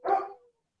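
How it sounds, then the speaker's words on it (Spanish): A single short, clear dog bark sounds close by, alone and quickly fading, from a large dog uneasy about an approaching storm. "Ahí está mi perro ladrando porque está por venir una tormenta y entonces le da miedo."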